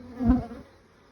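A honeybee buzzes close by at a hive during the June gap nectar dearth: one short, loud drone that swells and then fades within about a second.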